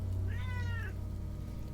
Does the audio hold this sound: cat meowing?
yes